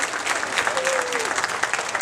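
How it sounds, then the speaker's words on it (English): An audience at a community theatre production gives the cast a sustained round of clapping, dense and even, while a voice briefly calls out over the applause. "How about a nice round of applause, great round of applause for the cast."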